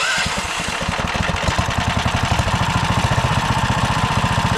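A 420cc small engine fitted with a big turbo idles roughly with steady, rapid low pulsing, the revs sagging slightly and recovering, close and loud with no talking.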